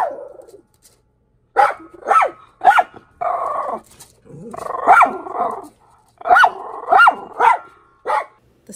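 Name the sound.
dogs barking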